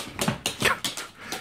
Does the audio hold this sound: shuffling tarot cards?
no